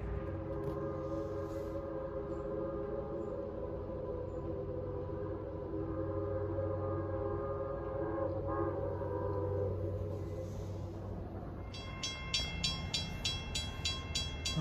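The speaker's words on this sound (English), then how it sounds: "here comes our train bound for New Hope, powered by the former CP GP9U." A former CP GP9U diesel locomotive hauls a New Hope & Ivyland Railroad train, its steady engine drone rumbling alone and building as it approaches, with a bell-like ringing near the end.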